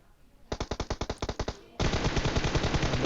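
Gunfire from the mobile battle royale game PUBG Mobile: a rapid string of about a dozen distinct automatic shots, then a short pause, then a dense sustained burst, loud and with no talk over it.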